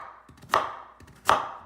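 A kitchen knife slices through raw sweet potatoes on a cutting board, two crisp, close chops about a second apart, each with a short crunchy rasp as the blade passes through.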